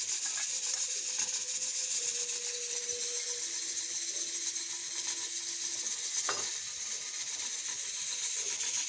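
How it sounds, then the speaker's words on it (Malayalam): Rice and wheat flour for puttu is mixed with salt and hot water, giving a continuous soft grainy rubbing and scraping, fairly close, with a faint low tone running underneath and no talk. "അതിലേക്ക് ഞാൻ കുറച്ച് ഹോട്ട് വാട്ടർ എടുത്തിരിക്കുന്നത്. നന്നായി മിക്സ് ആക്കുക."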